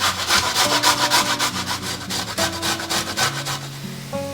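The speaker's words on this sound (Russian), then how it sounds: "Одну морковь я натираю на такой некрупной терке." A carrot grated by hand on a fine grater, with rhythmic rasping strokes in quick even succession, close and loud, over faint background music.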